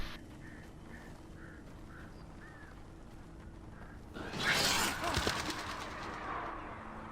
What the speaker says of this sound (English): Damn birds.